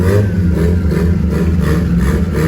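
A car engine runs loud and close, its low rumble rising and falling as it revs, with a slight rattling clatter.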